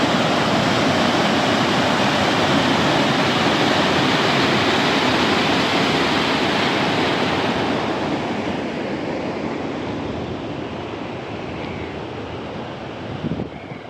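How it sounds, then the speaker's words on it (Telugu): Fast water rushing through a canal at the Kandaleru Dam, a dense, continuous roar like a torrent, loud and close at first, then easing somewhat toward the end, with wind buffeting the microphone. "చూసారు ఫ్రెండ్స్ ఎంత వాటర్ పోతున్నాయి, ఎంత ఫాస్ట్ ఉన్నాయి ఇక్కడ."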